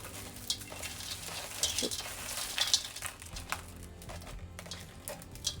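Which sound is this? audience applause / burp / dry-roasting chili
dry-roasting chili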